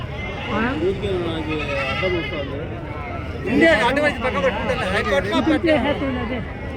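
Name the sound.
Goranta rams bleating at market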